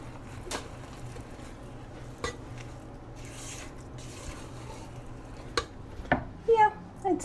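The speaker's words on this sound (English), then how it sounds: "I'm going to bring this over here so I can stir better." A spoon stirs melting peanut butter in a pot for no-bake oat cookies, with soft steady scraping and a few sharp clinks against the pot, quiet and close.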